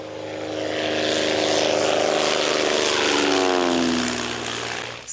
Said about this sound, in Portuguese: A ajuda vem do alto, através de aviões.